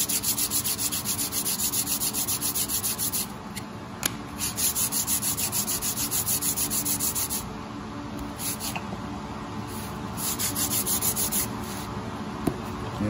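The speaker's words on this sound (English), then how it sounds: "I'm having a good time sanding these blocks" Continuous hand sanding on maple wood blocks, a steady back-and-forth scratchy rasp with brief pauses and a couple of light knocks, close and fairly loud.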